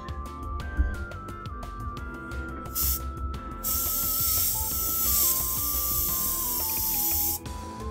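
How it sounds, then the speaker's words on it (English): An airbrush spraying paint, heard as an intermittent then sustained airy hiss of bursts that open into a long continuous spray before cutting off, over a faint tonal background. "that felt like it was spraying quite nicely just then"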